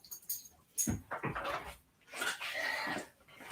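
A puppy whimpering and yipping close by in short, high, wavering whines and small squeals over a few seconds.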